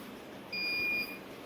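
A gas sensor alarm's buzzer gives one short, steady electronic beep, close and clear over a faint background hiss.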